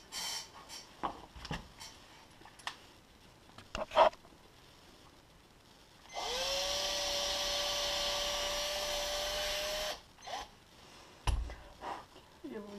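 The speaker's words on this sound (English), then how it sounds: "we take a small drill bit, and then we drill where the paint filled up in the hole from the pin" A small drill bit bores dried paint out of the pin hole of a freshly painted fishing jig head, giving a steady high whine for about four seconds mid-clip, with quiet clicks and handling noises before and after.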